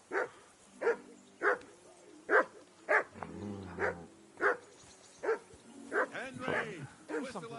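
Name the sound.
dog barking in a video game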